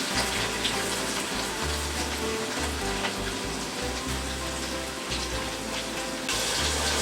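A pork roast browning in melted butter in a hot pan, a continuous loud sizzle and crackle close by with low thumps from the meat being moved around, no talk.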